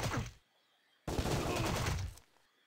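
Gunfire in the game Sure Shot, a short sharp burst, a pause of near silence, then a sustained volley of shots lasting about a second before cutting off.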